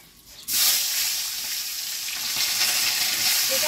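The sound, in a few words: fish head frying in hot mustard oil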